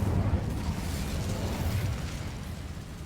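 Incendio fire spell cast in Hogwarts Legacy, a steady low whooshing roar of flame with crackling bursts, loud and continuous without any talking.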